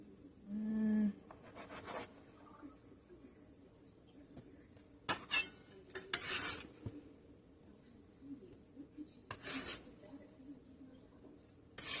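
A knife or bench scraper cuts sourdough bagel dough into pieces on a work surface, with a few sharp scraping strokes and clinks scattered among quiet gaps, close and fairly soft.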